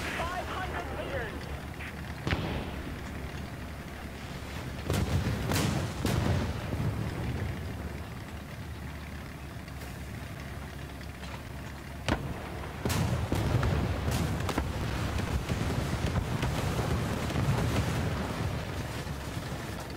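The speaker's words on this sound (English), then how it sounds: "Artillery strike." Artillery strike in War Thunder, heavy booms and explosions over a rumbling engine bed, with voices talking throughout.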